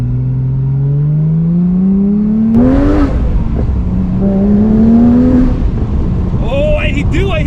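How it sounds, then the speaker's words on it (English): A tuned Porsche GT3 Touring revs in two rising pulls, loud and close, with exhaust burbling and crackle as the revs settle; a person talks over the engine. "Oh, I hear the burbles."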